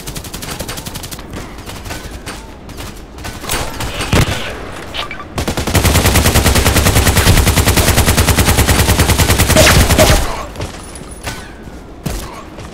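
Gunfire in the online shooter Contract Wars: scattered single shots and bursts, then a loud rapid automatic stream lasting about four seconds before a few more isolated shots.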